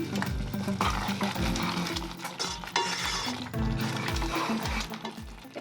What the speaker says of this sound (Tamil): டைஸ் பண்ணி வச்சுருக்கிற இந்த வெங்காயம், தக்காளி, கேப்சிகம் லைட்டாக கொஞ்சோண்டு வதக்கிட்டு